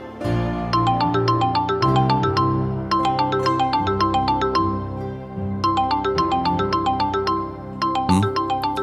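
A mobile phone rings with an incoming call, playing a loud, bright melodic ringtone that repeats its tune in regular phrases.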